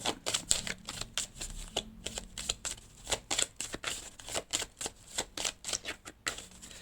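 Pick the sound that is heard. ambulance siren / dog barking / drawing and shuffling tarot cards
drawing and shuffling tarot cards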